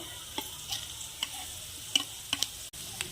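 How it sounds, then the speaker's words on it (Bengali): Chopped onion, carrot and capsicum fry and get stirred in a pan for vegetable chire pulao, with a steady soft sizzle under repeated scraping stir strokes and small clicks, close by and without talk. "আরও কিছুক্ষণ ভেজে নেব।"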